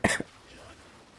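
A quick double cough close to the mic, two sharp bursts, followed by quiet room noise.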